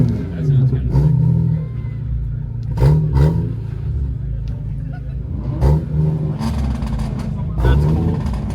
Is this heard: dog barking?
no